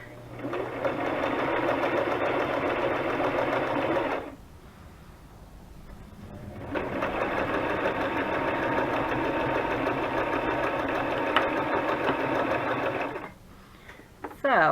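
A sewing machine runs in two long bursts of steady, dense stitching on a butterfly journal, back-stitching, separated by a short quiet pause with faint handling, then stops near the end.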